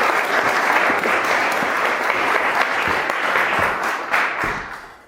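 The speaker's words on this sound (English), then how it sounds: "please give a warm applause to our first speaker, Vinay Gupta." Audience applause for the first speaker at Oslo Blockchain Day, dense steady clapping filling the room for about five seconds before tapering off at the end.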